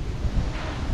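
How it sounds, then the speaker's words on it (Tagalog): Wind buffets the microphone in low, uneven gusts, a rough rumbling rush with no voices present. "Mahangin nga eh."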